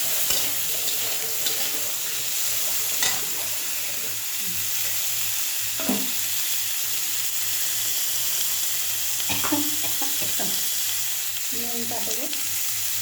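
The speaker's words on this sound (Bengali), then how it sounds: "দেখো চিংড়ি মাছটা ওর মধ্যে দিয়ে দিলাম, দিয়ে একসঙ্গে দুটো ভাজা করবো।" Prawns and green chilies fry in a pan with a steady, close sizzle throughout, broken by a few soft scraping stirs and light clinks; no one speaks.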